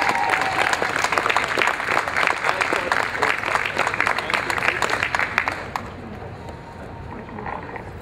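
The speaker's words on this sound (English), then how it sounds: "Let's give them a nice round of applause for being good parents." Audience applause at a gathering about child protective services, a dense wash of many hands clapping close and steady for several seconds before thinning out, with voices mixed in.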